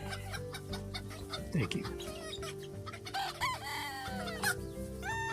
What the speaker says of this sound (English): Can somebody grab that rooster?